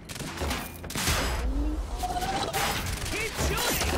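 Rapid gunfire bursts in the video game Quantum Break, loud and repeated across the whole stretch, mixed with game effects and people talking.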